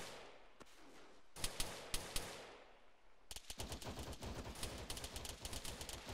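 Bursts of machine gun fire in a large-scale military shooter game with realism mods, scattered loud shots early, then a sustained rapid rattle of automatic fire.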